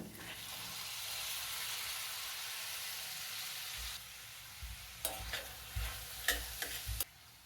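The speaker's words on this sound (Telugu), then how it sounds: "రెండు మీడియం సైజు టమాటోల్ని సన్నటి ముక్కలుగా కట్ చేశాను ఇవి వేసేస్తున్నాను" Finely chopped medium tomatoes go into hot oil with ginger garlic for bhindi masala, producing a strong sizzling hiss that drops after a few seconds, followed by several distinct stirring scrapes and clacks of a spoon against the pan.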